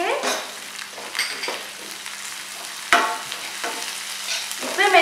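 Ginger and green chilli sauté in a pan with oil for a Chinese corn appetizer, a soft sizzle broken by repeated stirring scrapes and one sharp knock, close and without talking.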